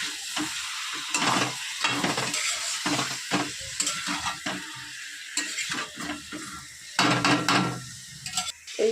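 Spice masala batter sautéing with drained meat in a pan, bursts of loud sizzling broken by repeated stirring and scraping strokes, close and continuous with no talk.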